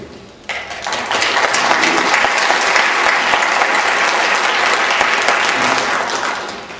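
An audience at a forum event applauds the welcome of a noted author and TV host. Dense, loud, sustained clapping bursts in suddenly and holds steady, easing slightly at the close, with no speech over it.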